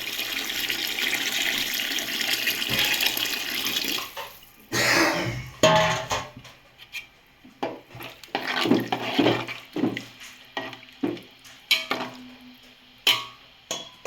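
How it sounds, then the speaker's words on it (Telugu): Water pours steadily into a pot of tamarind okra stew for a few seconds, then gives way to a series of knocks and clattering handling sounds, close by with no talking. "తగినన్ని నీళ్ళు కూడా పోసుకోవాలి."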